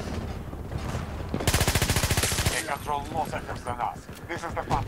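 Rapid automatic gunfire in Battlefield 2042, a loud burst of evenly spaced shots lasting about a second, with someone talking before and after it and other gunfire crackling faintly in the background.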